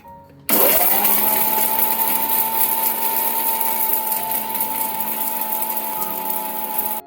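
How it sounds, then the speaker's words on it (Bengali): An electric mixer grinder starts abruptly and runs at a loud, steady whine while grinding cumin seeds into powder, holding a constant motor drone throughout with no talking. "ফার্স্ট আমি একটু জিরা গুঁড়ো করে নিয়েছি।"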